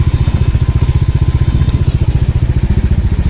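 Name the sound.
vehicle driving on rough forest track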